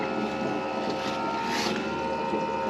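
A small pump steadily sucks maple sap out of a collection bucket through a coarse filter and up a tube into a barrel in Wisconsin, giving a continuous, even motor drone with breezy outdoor noise.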